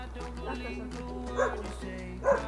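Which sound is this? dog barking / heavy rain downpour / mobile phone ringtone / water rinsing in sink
dog barking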